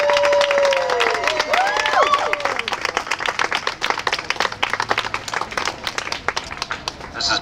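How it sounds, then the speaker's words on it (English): Applause and clapping from a crowd at an anti-fracking rally in Culver City, steady and fairly loud, with some cheering and a voice rising over it near the start. "deserves a big round of applause"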